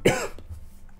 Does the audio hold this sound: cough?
yes